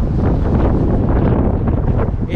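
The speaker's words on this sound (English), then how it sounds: "It's crazy windy out here today" Strong wind roars and buffets the microphone continuously, a dense low rumble with no voices.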